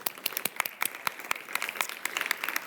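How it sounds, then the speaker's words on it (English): An audience applauds panel speakers at an event, a round of many distinct hand claps at moderate distance, fairly quiet, with crisp individual claps standing out through the short burst. "Let's give them a round of applause."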